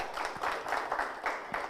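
An audience at the LCCM national opening ceremony applauds as a province is announced, faint, uneven bursts of clapping rising and falling in a large venue.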